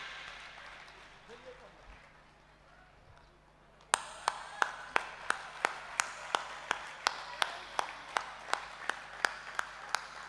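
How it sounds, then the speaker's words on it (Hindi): An outdoor crowd at a Bharat Mata statue foundation ceremony in Takhatgarh breaks into applause for Baba Ramdev, starting abruptly after a quieter murmuring stretch and continuing as dense clapping with sharp rhythmic claps standing out. "जोरदार तालियां बजाइए पूज्य महाराज श्री के लिए"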